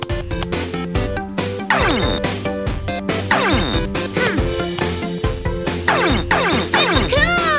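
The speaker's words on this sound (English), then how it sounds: "Oh, you smashed the wall." Loud, repeated crashing and whacking impacts in a cartoon game of knocking down a brick wall, arriving in quick bursts over a bright, busy musical backdrop.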